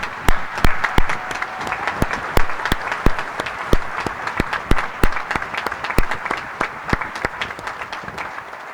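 Graduates at a university graduation ceremony applaud, a crowd patter punctuated by sharp, distinct close claps repeating in a loose rhythm throughout, fairly loud and alone without talk.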